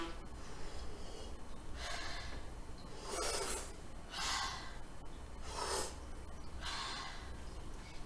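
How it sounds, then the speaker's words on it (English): A patient breathes deeply during a lung exam, several slow, close inhale-exhale cycles with audible airy rasp, roughly every second or so, with no talking. "Deep breath."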